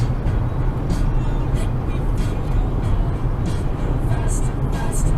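An animal control patrol vehicle drives along the road, its cabin filled with a steady low engine and road rumble, with faint intermittent higher noises over the top and no talking.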